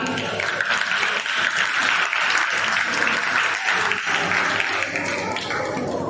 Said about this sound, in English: I would ask the students to have a big round of applause with your clapping